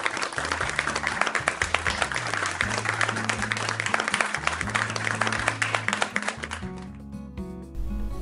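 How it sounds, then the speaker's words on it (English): A classroom of schoolchildren claps together after a multiplying quiz, dense steady applause running throughout, with background music notes and a few light taps, tailing off near the end. "So please give yourselves a round of applause."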